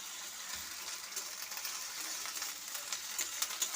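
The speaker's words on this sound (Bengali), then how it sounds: "চলো এখন দিয়ে দেবো আদা রসুন" Ginger and garlic hitting hot oil in a frying pan, giving a steady, close hiss of sizzling throughout with a few brighter crackles near the end, and no talking.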